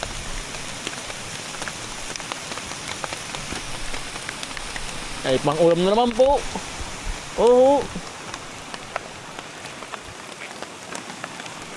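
Heavy rain pours in a dense, constant hiss on surfaces, steady throughout, with a voice speaking briefly over it in two short bursts.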